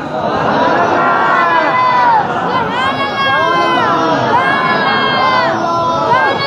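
A loud crowd packs a mosque, with overlapping chatter, raised voices and shouting children in a constant dense babble that swells and dips throughout.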